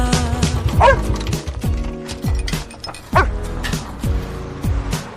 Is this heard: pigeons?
no